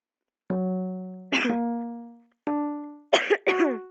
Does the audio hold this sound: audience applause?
no